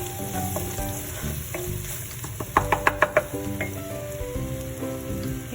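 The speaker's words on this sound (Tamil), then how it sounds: "இப்போ பச்சை மிளகாய் இருந்தால் எடுத்து போட்டுடலாம். போட்டுட்டு லைட்டாக வதக்கிட்டு" Green chillies and ginger sautéing in a pan for a scallop curry, a steady close sizzle with a few sharp knocks of a spoon against the pan midway.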